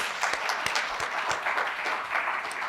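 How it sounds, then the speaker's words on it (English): Audience applause at a Constitution Day lecture: a steady, close patter of many hands clapping, dense and even throughout with no voices over it. "So round of applause for her for being very engaged"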